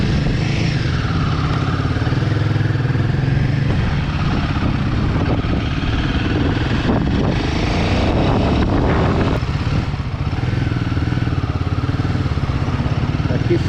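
Royal Enfield Himalayan 450 motorcycle riding along a street, a continuous engine drone with rising and falling pitch under heavy wind rush, with no speech.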